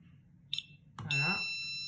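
A Netatmo smoke detector gives two short test beeps as its button is held, a brief high chirp followed by a sustained bright tone, close and fairly loud.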